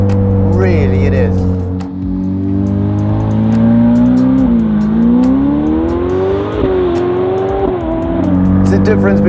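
A Ferrari F8 Novitec accelerates hard, its engine rising in a strong, close rev that dips briefly and climbs again, while someone talks over it almost the whole time.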